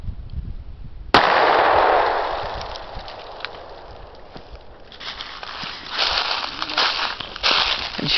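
A pistol fires a single Hornady Critical Defense .40 S&W round outdoors, a sharp loud crack followed by a long ringing, rumbling decay and scattered noise afterward.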